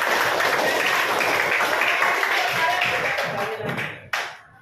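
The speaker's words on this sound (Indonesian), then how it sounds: "Iya, tepuk tangan untuk semuanya." A class of children claps hands together at close range, a busy rhythmic patter that tapers off, ending in a single sharp clap before quiet.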